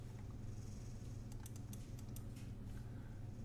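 Quiet, close keystrokes sound on a computer keyboard as a file name is entered, a light patter of clicks that bunch into a quick burst midway, over a steady low hum.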